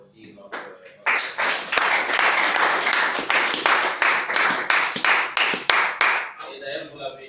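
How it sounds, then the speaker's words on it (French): An audience at a French-language civic talk on citizen oversight for young leaders breaks into dense, steady applause that swells after a few scattered claps, holds loud for several seconds, then fades as a voice starts. "je demanderai à l'assistance d'applaudir notre."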